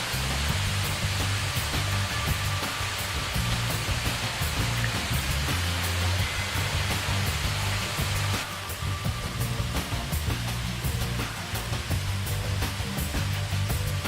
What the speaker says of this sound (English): The end of the trail had a really tall waterfall.